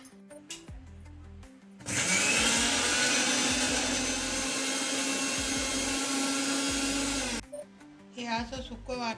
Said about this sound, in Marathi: मला हे थोडंसं मिक्सरच्या भांड्यामध्ये काढून घ्यायचं.